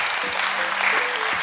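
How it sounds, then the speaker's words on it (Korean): Audience applause at a festival talk show closing, steady dense clapping filling the whole moment with faint voices underneath. "다시 한번 큰 박수 부탁드리겠습니다"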